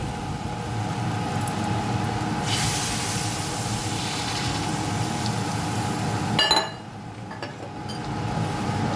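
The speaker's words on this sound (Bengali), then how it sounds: "এবার আমি পরিমাণ মতন জল দিয়ে দেব।" Water is poured into a hot pan of Bengali taro (gati kochu) dalna being cooked with shrimp. A loud, broad sizzling hiss rises over steady kitchen noise, then drops off sharply near the end before a quieter simmer returns.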